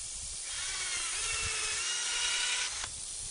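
A power drill whines steadily at high pitch for a few seconds, close by, drilling a 1 1/4-inch PasturePro fence post, then slows and spins down near the end.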